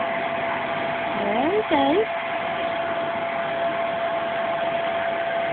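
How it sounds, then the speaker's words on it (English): A Hoover vacuum cleaner runs steadily and close by as a broad, constant whoosh while a person speaks briefly over it. "Now, this is the Hoover."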